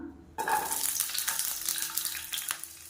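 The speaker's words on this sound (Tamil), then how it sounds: "இப்போ எண்ணெய் நல்லா சூடாகிடுச்சு இதில் பார்த்திங்கன்னா ஒரு பத்து சின்ன வெங்காயம் சேர்த்துக்கலாம்" Small onions hit hot oil in a pan with a sudden loud sizzle after a brief quiet start, then a dense crackling fry continues steadily with faint scraping.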